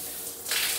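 Water from a shower in an Aruba hotel room hisses steadily nearby, swelling brighter and louder halfway through as the flow strengthens.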